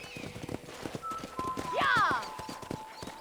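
Horse hooves clip-clopping in the video game Red Dead Redemption, a brisk rhythmic trot heard close, with a short whinny in the middle and someone speaking over it.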